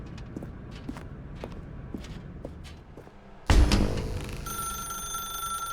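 A telephone in The Stanley Parable video game begins ringing sharply after a few soft footsteps in a dark room, its bright, loud bell sustaining and pulsing for the remaining seconds.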